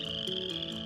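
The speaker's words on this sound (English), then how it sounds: "There were frogs" Frogs croak in a steady chorus, a dense, buzzing trill running continuously through a brief moment with faint pulsing beneath, moderately loud and with no talk over it.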